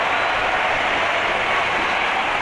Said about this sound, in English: Out come the audience, cheered by a big crowd in.